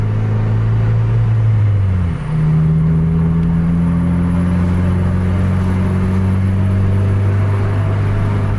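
A Scania truck engine drones loud and close, dipping briefly before settling into a sustained, steady roar as it pulls under throttle, with turbo whine mixed into the low rumble.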